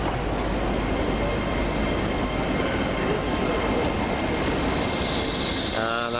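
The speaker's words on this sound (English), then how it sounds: "this is the Lumo train. The first time I've seen one of these." A Lumo passenger train, unit 803001, rumbles steadily close by at Reston station in Scotland, with a broad mechanical roar and a faint high whine building near the end; no talking.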